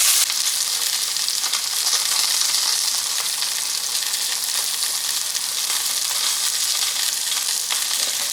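Salmon fillets fry in a hot pan with a loud, steady crackling sizzle that keeps going unbroken, close up and without any talk.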